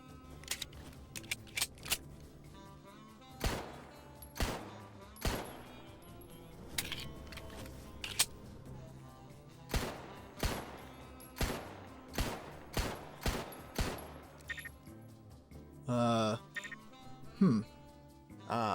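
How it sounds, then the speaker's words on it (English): Video game gun reloading sequence with sharp metallic clicks and clacks in an irregular series, close and fairly loud, a few rattling handling noises near the end; no talking. "here we go, the usual reloading sequence"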